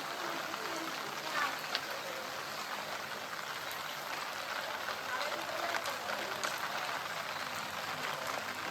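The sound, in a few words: river flowing with waves after heavy rain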